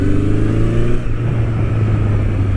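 Honda CB1100 air-cooled 1100cc four-cylinder motorcycle engine pulling hard from low revs as the throttle is opened: a loud, close drone whose pitch shifts about a second in and then carries on steadily.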